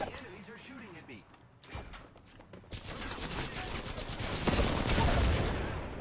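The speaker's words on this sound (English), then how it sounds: "The enemies are shooting at me." Rapid gunfire in the Apex Legends video game, starting faint and growing into a dense, sustained barrage of shots, with a player talking underneath at first.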